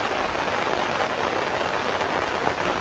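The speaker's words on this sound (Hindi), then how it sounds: "सोलन में झमाझम बारिश है।" Heavy rain falls steadily in Solan, Himachal Pradesh, a dense, even wash of noise that holds constant without a break.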